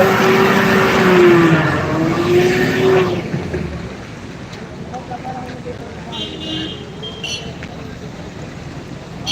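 Large vehicles pass along a potholed, rain-damaged road at an interchange, rolling by with a loud roar and engine whine that fades into softer background traffic, with a voice speaking over it.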